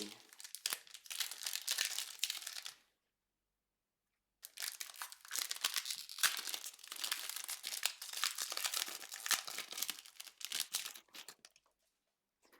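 Basketball trading cards are handled and one is slid into a plastic sleeve: close, soft crinkling and rustling in two bursts separated by a brief silence.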